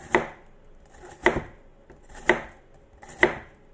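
A knife cuts thin slices of bitter gourd (ampalaya) on a board, making four crisp, evenly spaced chops that are close and distinct, with no talk.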